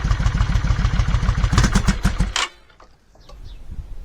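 A cold engine started without choke runs with a fast, uneven pulsing beat, briefly revs with sputtering misfires, then cuts out, leaving faint low rumbling and quiet noises.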